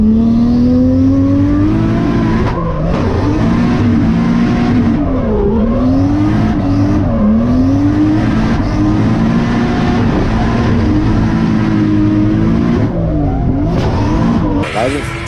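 A Nissan S14 race car at a Val-de-Vienne circuit event, its engine loud and close, revving hard through gear changes with squealing tyres while commentators talk over it throughout.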